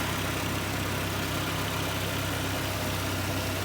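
A petrol engine idles quietly with its choke partly out, running through a newly fitted exhaust; a steady low hum with a faint regular pulse continues unbroken and close by, with no talk over it.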